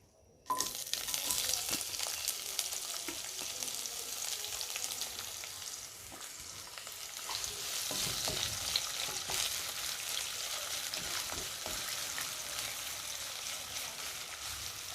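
Half a cup of chopped onion hits hot oil left over from frying fish, giving a steady, loud sizzle throughout with occasional stirring clicks and no voices.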